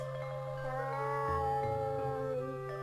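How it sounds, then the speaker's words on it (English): A cat meows in the video game Amayado Bus Stop, a few drawn-out tonal calls over a steady humming game music bed, with no talk. "Oh, it's the cat again."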